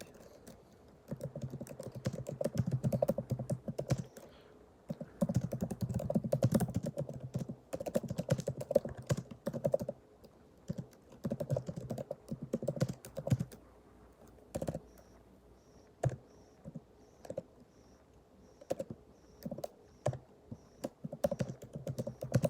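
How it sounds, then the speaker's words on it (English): Computer keyboard typing in bursts of rapid key clicks with short pauses, fairly close and moderately loud, with no talking. "So let me go ahead and type this in."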